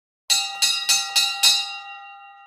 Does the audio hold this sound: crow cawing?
no